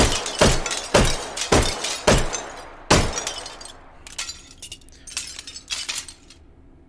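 Glass window panes in the H3VR game shatter in a rapid series of sharp, loud crashes, about five or six strong breaks followed by lighter tinkling and falling shards, close and without speech.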